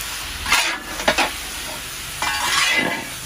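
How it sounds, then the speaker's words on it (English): Five pounds of sausage browns in a large jambalaya pot, hissing in a steady close sizzle, broken by a few scraping stirs and clanks of a spoon against the metal. "Step one, brown 5 pounds of sausage."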